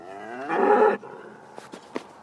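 A cow lets out one loud, drawn-out moo up close while a herd crowds around feed, followed by scattered thumps and shuffling from the jostling cattle.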